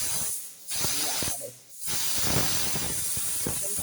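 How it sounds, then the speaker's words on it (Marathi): A steady, loud hiss of steam escaping from a pressure cooker while cooking cabbage, dipping briefly twice before resuming, with faint clatter and knocks underneath. "आता आपण हे जे हवा काढून घेऊया वाफ वाफ काढताना आपल्याला हवा वरती करायची"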